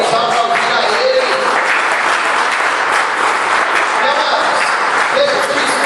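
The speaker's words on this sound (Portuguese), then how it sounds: "Vamos aplaudir a Ele." Dense, steady applause from a church congregation fills the room, loud and unbroken from start to finish.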